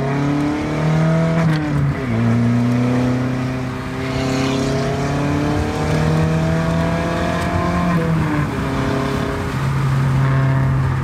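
An Audi TT 8N 225 hp engine revs hard on an expressway and climbs through its gears, dropping briefly between shifts, loud and close with a steady roar throughout.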